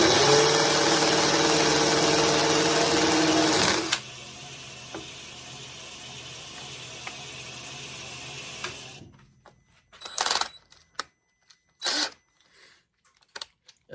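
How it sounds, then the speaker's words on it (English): A grinder runs, grinding a chamfer on custom knife hardware, its loud steady whine changing pitch partway through, then winding down into quiet broken by a few short clatters and knocks. "Going to start the grinder."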